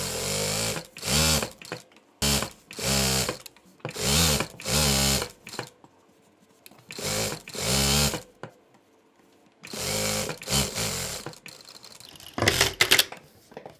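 A sewing machine fitted with an edge-stitch foot runs along the edge of a cloth bag in several short bursts of rapid whirring stitching, separated by pauses, close and clear.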